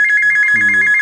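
A telephone ringing with a steady, loud electronic warble that repeats in quick pulses throughout, close and clear, with a brief low hum under it.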